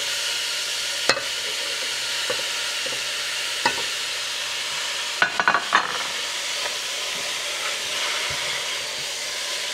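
Beef cooking in a dry pan with no oil sizzles and hisses steadily throughout, broken by a few sharp scrapes and clicks of stirring.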